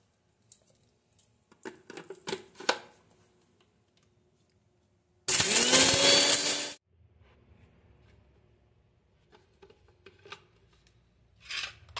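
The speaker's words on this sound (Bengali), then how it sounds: "এগুলো সব একসঙ্গে পিষে নিচ্ছি" An electric grinder grinds whole spices for homemade biryani masala in one loud, whirring burst lasting about a second and a half. Quieter kitchen clatter and taps come before and after it.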